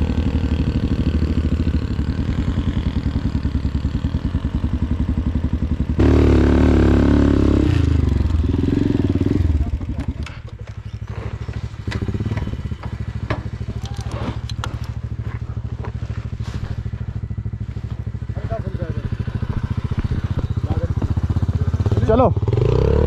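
A motorcycle engine revs hard under full throttle while climbing a steep offroad mountain track, loud and continuous with rising and falling pitch and clattering, with people talking over it.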